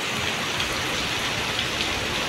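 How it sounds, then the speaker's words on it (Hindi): Heavy rain pours down steadily in a village, a dense, even hiss of drops on surfaces that stays close and constant throughout with no voices. "गाइस देख सकते हैं आप लोग यहाँ कितनी तेज़ बारिश हो रही है।"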